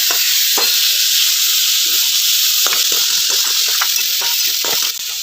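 Onion, green chili, garlic and tomato frying in a pan for a traditional village-style waghata vegetable curry, a steady loud sizzle and hiss throughout with scattered stirring scrapes and no talk.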